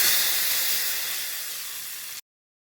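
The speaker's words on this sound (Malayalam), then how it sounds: "ഇനി ഇതാ കുറച്ച് കടുകും ചേർത്ത് കൊടുത്തിട്ട് കറിവേപ്പിലിട്ടിട്ടൊന്ന് ഇട്ടിട്ടൊന്ന് വറവിച്ചെടുക്കുന്നുണ്ട്" Mustard seeds and curry leaves hit hot coconut oil with a loud, bright, steady sizzle that fades slightly over about two seconds before cutting off abruptly into silence.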